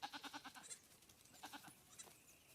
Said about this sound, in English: give us a thumbs up if you can hear the goats